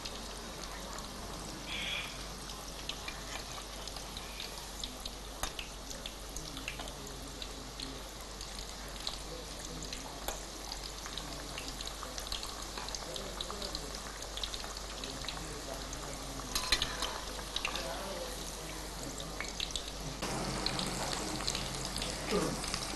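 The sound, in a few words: chicken frying in oil until golden brown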